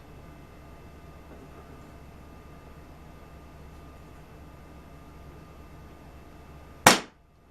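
An air pistol fires once near the end, a single sharp, loud report out of a long stretch of quiet background hiss, with no talking.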